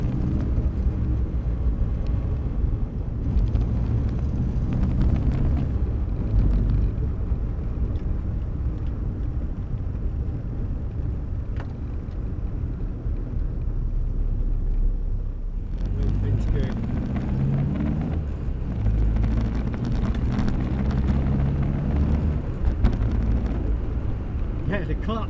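A 1962 Morris Minor's engine runs steadily as the car drives, a continuous low rumble with wind buffeting throughout, easing slightly midway before swelling again; someone talks over it.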